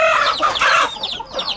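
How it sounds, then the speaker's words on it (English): An Aseel rooster crows close by, a single loud, strained call with a rising then falling shape, ending in a short tail. "that's a nice rooster right there"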